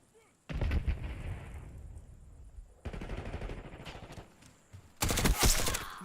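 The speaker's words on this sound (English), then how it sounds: "I thought that was an enemy shooting." Video game gunfire heard in bursts, with rapid overlapping shots and booming reports coming in three loud waves, mixed with faint talk.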